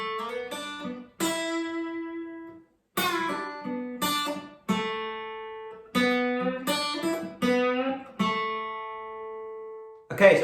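A guitar plays the intro solo section of a song as a lesson demonstration: clear, separated phrases of sustained single notes and slides, some ringing for a second or more, with brief silences between phrases.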